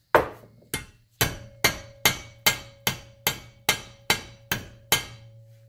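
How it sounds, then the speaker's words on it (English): A rubber hammer strikes the shaft of a mini bike being taken apart, giving eleven sharp, close blows at a steady rhythm with a short ringing decay after each; no one speaks. "try this with our rubber hammer first."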